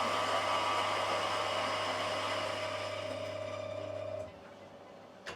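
A coffee grinder grinds espresso beans with a steady, loud motor whir that runs evenly for about four seconds, then drops away abruptly, leaving a faint residual hum and a brief click at the end.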